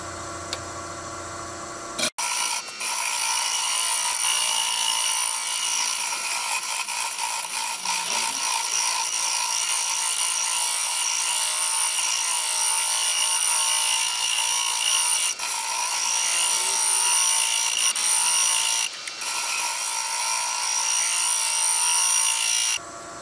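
Woodturning lathe cutting a glued striped wood platter with a 3/4 inch round nose tool: a steady, loud scraping whir with ticking texture runs almost continuously after a brief pause at the start, with a short dip near the end.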